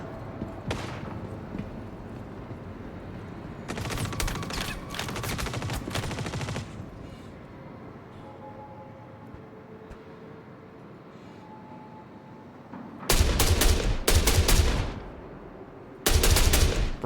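Star Citizen gameplay gunfire: rapid automatic bursts crackle in the mix, one sustained volley early on, then two loud, dense bursts near the end, with quieter game ambience between and no talking.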